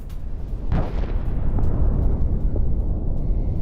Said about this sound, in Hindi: एक के बाद एक धमाके।